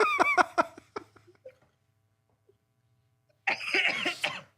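A burst of harsh, rattling smoker's coughs, then quiet, followed by another fit of coughing mixed with wheezy laughter, close to the microphone.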